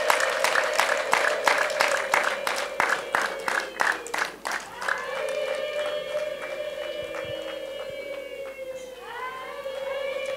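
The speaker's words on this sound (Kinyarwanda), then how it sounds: "twongere impundu n'amashyi" Rapid, loud applause from a crowd at an introduction and dowry ceremony gives way to high, trilling ululation from several women, which carries on alone.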